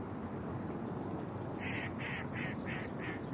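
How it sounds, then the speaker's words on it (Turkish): Ducks quack by the sea at Fethiye in a short repeated series partway through, over a constant steady background hiss. "Ördekler var burada çok güzel."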